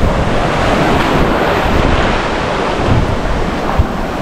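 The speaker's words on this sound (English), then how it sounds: "the waves are only small" Small waves washing onto the shallow shore of Gamat Bay beach on Nusa Penida, a steady close surf wash with wind buffeting the microphone and no voices.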